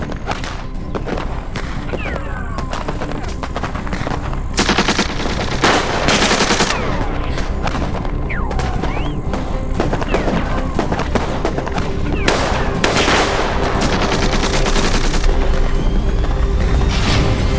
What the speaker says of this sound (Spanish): ¡Ya dejen de disparar!